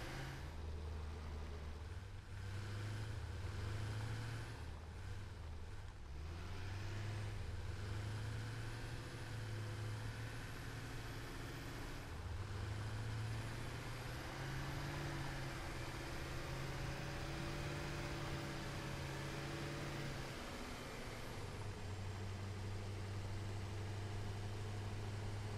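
Tractor driving in the game Satisfactory, a steady engine drone with shifting tonal hum as it turns, continuous and moderately quiet without talk.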